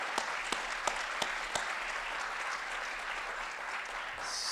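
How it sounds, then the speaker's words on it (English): Loud, sustained applause from a crowd at a public heroes appreciation awards ceremony, a few sharp individual claps standing out at the start before settling into a dense, even roar. "We need to give him a huge round of applause."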